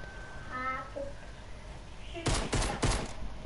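A rapid burst of video game gunfire, three quick loud shots near the end, preceded by synthetic game tones and background noise.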